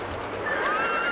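A horse in the Barbie Horse Adventures: Wild Horse Rescue video game lets out a single rising whinny, loud and close, over soft game ambience.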